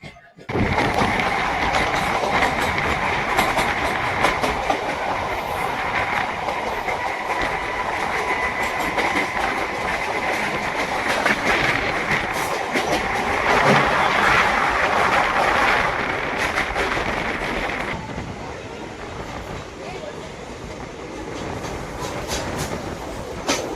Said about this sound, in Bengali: নির্ধারিত টাইমে কিন্তু আমাদের ট্রেন ছেড়ে দিল আমাদের গন্তব্যে